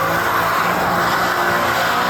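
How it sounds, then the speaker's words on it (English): A Ferrari 550XX Evo with a straight-piped exhaust spins its tires doing donuts, giving a loud, continuous squeal and skid over the steady roar of the engine. "I hear spinning tires."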